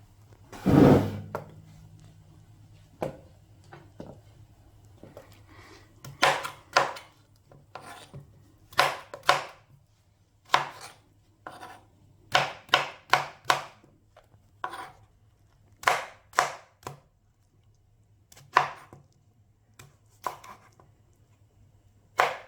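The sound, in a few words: dicing breadfruit for Jamaican chicken soup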